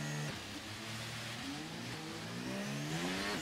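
Engine of an F1 23 race car in the video game revving at the start, with a clutch held and revs being set: a steady high-pitched buzzing drone with shifting harmonics, fairly quiet and alone.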